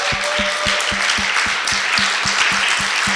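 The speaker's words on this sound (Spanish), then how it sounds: "Le damos un aplauso al Señor." A church congregation claps for the Lord, loud sustained applause with a regular rhythmic beat running through it, likely a drum or clap pulse keeping time, close and full throughout.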